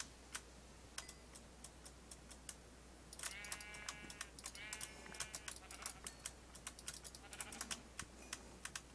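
Sheep bleat in a video game, a pair of wavering, nasal bleats close together near the middle, set against a quiet background of sharp clicking and ticking sounds that tap out irregularly the whole way through.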